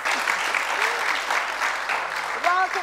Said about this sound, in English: A round of applause for our guest today.